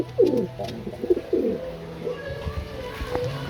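Pigeons coo close by, with several low, rolling calls in the first half that then fade to softer cooing and faint background noise.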